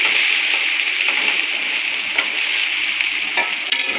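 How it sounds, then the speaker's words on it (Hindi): Cinnamon and whole dried red chilies frying in hot oil in a pan, a continuous bright sizzle with occasional stirring scrapes, close and steady with no talk. "कुछ खड़े मसाले हैं मेरे पास, दालचीनी है, लाल मिर्च है साबुत। इसे भी थोड़ा सा भून लेना है 30 सेकंड के लिए"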